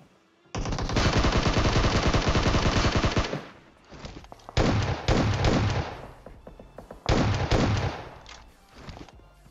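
Loud, sustained automatic gunfire in the battle game PUBG Mobile, a long continuous burst followed by two shorter bursts with brief gaps between them, close and dominant with no talking.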